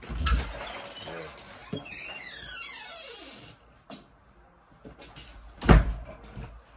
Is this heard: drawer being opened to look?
yes